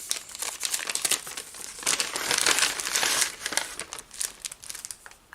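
Wrapping paper around a Christmas gift box crinkles and rustles steadily as it is unwrapped, close and continuous for several seconds with no talking.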